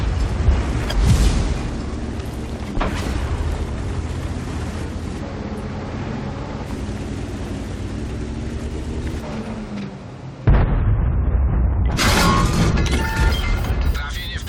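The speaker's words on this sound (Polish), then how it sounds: "Trafienie w przedział amunicyjny." A shell strikes the ammunition rack of a tank in World of Tanks, a heavy crash and rumbling boom amid continuous battle noise, with a sharp louder impact burst near the end.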